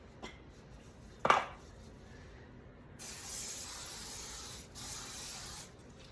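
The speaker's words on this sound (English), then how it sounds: "So you can put oil, or I'm just gonna use some spray." A can of cooking oil spray hisses over a bowl meant to hold bread dough overnight, starting after a clunk and running in two steady bursts, close and fairly loud, with no talking.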